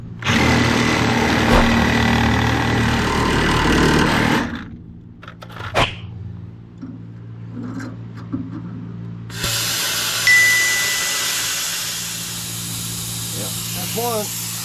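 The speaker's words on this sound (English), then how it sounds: "I'm going to take the Sawzall and get it cut out of the way" A Sawzall reciprocating saw cuts through plastic on a truck bed during a 5-ton crew cab build, roaring loudly for several seconds, stopping, then buzzing again, with someone talking nearby.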